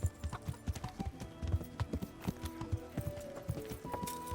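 Horse hooves clip-clop steadily at a walking pace in the medieval game Kingdom Come Deliverance, close and clear with a regular rhythm over faint background tones.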